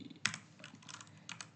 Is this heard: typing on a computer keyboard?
yes